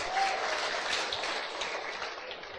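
Church congregation giving applause in praise of God, a steady dense patter of many hands clapping throughout, moderately loud, with a faint voice briefly underneath.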